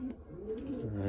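A pigeon bred as a pedigreed investment bird coos softly in a loft, a low, brief murmur rising slightly near the end, close and quiet.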